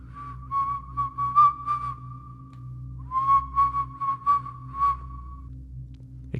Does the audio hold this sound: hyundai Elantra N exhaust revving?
no